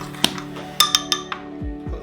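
A metal spoon clinks sharply against a bowl while mixing yeast, several bright taps in quick succession close up, then a couple of softer knocks.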